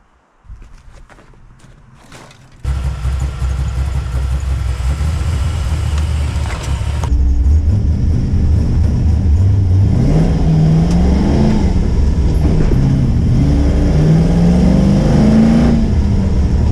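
A car engine that is running hot idles quietly, then roars up loudly as the car drives off. The revs climb and fall in repeated swells around 1400 RPM, close and continuous.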